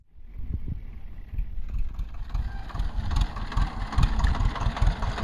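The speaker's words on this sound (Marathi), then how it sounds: "झाला ट्रॅक्टर चालू" A heavy engine cranks, catches and settles into a steady, loud diesel chugging, thumping rhythmically close by.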